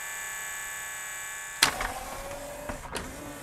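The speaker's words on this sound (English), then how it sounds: "all I got was that loading motor just running." A tray-loading motor inside a Yamaha CDC-697 CD changer runs on with a steady whine, then a clunk and a few mechanical knocks as the belt-driven mechanism struggles.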